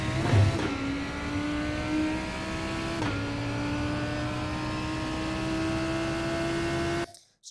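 A Lamborghini Huracán GT3 engine in the iRacing simulator at Imola accelerates hard, its loud, steady roar climbing in pitch through two upshifts before cutting off abruptly at the end.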